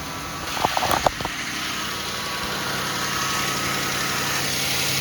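Jeep Grand Cherokee engine after a thermostat replacement cranks briefly and fires up, then settles into a steady, loud idle with a constant hum close by.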